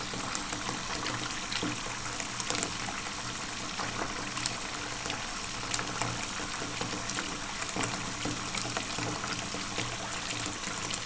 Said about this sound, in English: I'm just rinsing this away and still just keep going until it's no longer sticky.